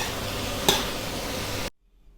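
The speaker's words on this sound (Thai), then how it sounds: "พริกสามสีนะครับลงไปผัดด้วยกันเลย" Shrimp and three-colour bell peppers stir-fried in a pan: a steady, close sizzle with one sharp stirring scrape, then the sound cuts off abruptly into silence.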